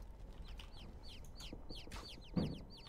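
A small bird in Niffelheim clucks over and over in a steady, chicken-like series of soft calls, fairly close, with a brief thump near the end.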